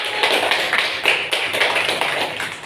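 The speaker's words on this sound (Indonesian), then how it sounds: "tepuk tangan untuk kelompok 1" Schoolchildren clap for a student group in a classroom, a short burst of uneven, somewhat sparse hand claps with an irregular rhythm, close by.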